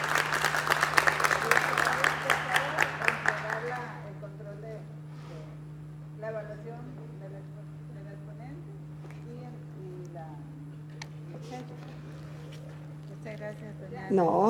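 Audience at an educational science fair applauds loudly for about four seconds, dense clapping that then fades into quiet room noise with a steady hum and scattered soft sounds.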